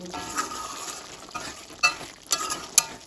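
Cauliflower rezala, a vegetarian curry just seasoned with sugar and garam masala, is stirred in a pan: soft scraping and sizzling with several louder spoon strokes against the pot, close and without talk.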